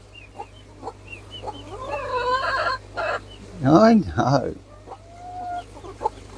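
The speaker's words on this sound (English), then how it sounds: "they're probably the best fed chickens in the country." Silkie and Pekin bantam chickens cluck and squawk in a coop, with rising calls and a couple of louder, close squawks, while a person speaks briefly.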